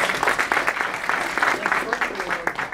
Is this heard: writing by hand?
no